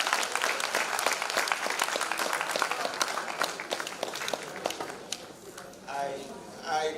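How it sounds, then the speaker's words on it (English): An audience at a postgraduate research conference claps for the panelists, sharp, close hand claps fading out over several seconds while a voice speaks near the end. "Please, can we, with a round of applause, appreciate our panelists for today."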